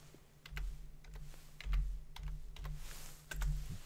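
A computer keyboard clatters close up as a folder name is typed, a quick irregular run of crisp key presses with a few heavier thumps.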